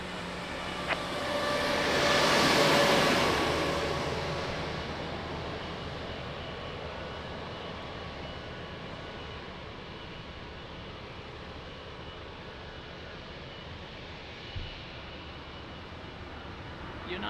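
An airliner taxiing at Lisbon Airport gives a broad jet engine rumble and whine that swells over the first few seconds, then settles into a steady, fairly distant drone with a faint thump near the end.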